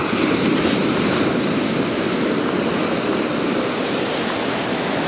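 Ocean surf washing steadily over a rocky, kelp-strewn shoreline as a metal detecting find is rinsed, a loud, continuous roar of waves and water with wind noise.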